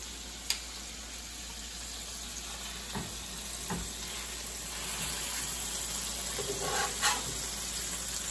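Bison patties frying in a pan, a steady soft sizzle throughout with a few faint clicks and light utensil taps, close by and with no talk.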